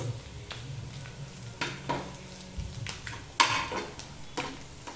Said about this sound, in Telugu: ఈ ఆయిల్లో మనము ఈ వెల్లుల్లి కారాన్ని వేయించుకుందామండి